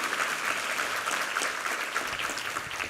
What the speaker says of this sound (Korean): 힘찬 격려의 박수 부탁합니다.